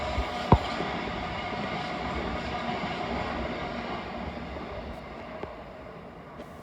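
A British Rail Class 387 electric train runs past near Caledonian Road in London, giving a steady, moderately distant rumble with a brief clank early on and no talking.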